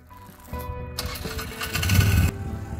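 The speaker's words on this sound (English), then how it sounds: "I'm gonna chainsaw." Chainsaw being started outdoors on an off-grid property while clearing wood ahead of wildfire season; the engine catches and revs loudly for a couple of seconds, then cuts off, with no talking.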